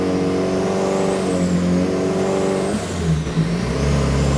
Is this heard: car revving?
yes